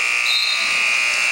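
A loud, sustained electronic buzzer sounds in a gym at a boys' freshmen high school basketball game at the end of a quarter, a single steady harsh tone lasting over a second.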